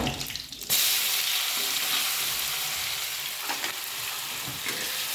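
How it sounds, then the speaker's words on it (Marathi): Cumin, curry leaves and ground paste frying for vada pav, with a sudden loud burst of hissing sizzle as the paste goes into the hot oil, then a steady close crackle. "जिरं छान फुललं की कढीपत्ता आणि वाटलेलं वाटण"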